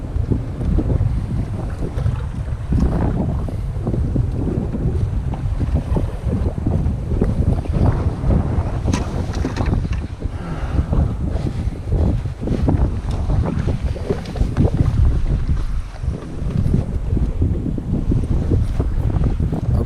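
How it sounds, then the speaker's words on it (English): A fishing boat's outboard motor drives back into rough waves on a fall walleye outing. Its engine drone mixes with slapping water and heavy wind buffeting the microphone, loud and unbroken throughout. "I was just running the motor back into the waves and pitching the jigging ramp."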